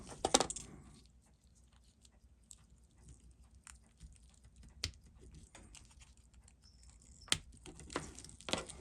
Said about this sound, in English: So my goal here is just to pop the bezel.